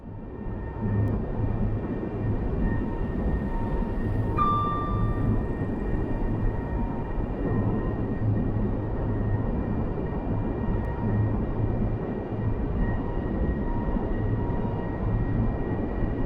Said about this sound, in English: It's a nice little fast train, this 385.